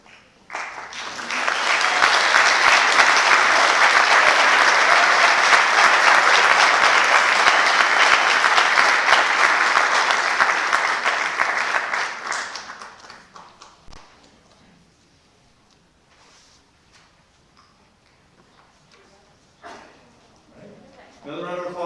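Applause fills a high school honors convocation hall, a loud, dense wave of clapping that rises quickly, holds for about ten seconds, then tapers off into quiet room noise with a few scattered claps and stirring.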